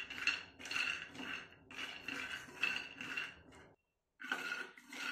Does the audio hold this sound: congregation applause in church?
no